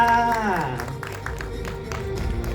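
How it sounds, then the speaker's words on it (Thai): Audience applause of scattered clapping at a film press conference rises as a voice fades out at the start, then continues on its own. "ปรบมือดังๆให้กับผู้กับภาพยนตร์ของเรานะคะพี่นัทชาติชายเกตนัทนะคะ"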